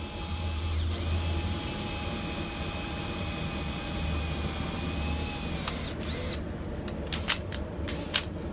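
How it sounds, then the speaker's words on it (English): Power drill boring a single hole straight through a steel pipe and the rod inside it while making a forged trammel hook, a steady motor whine, then the drill winding down and a few sharp clicks and knocks near the end. "I drill one hole through the pipe and the rod at the same time"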